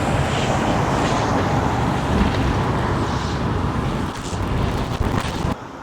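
Audi TT Mk1 driving along a country road through the village of Linfield, heard as a steady, loud rush of engine, tyre and wind noise that continues without a break.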